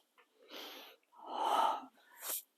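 Three forceful breaths from a breathing exercise in a movement workout, each a sharp airy rush with short gaps of silence between them, close and fairly quiet.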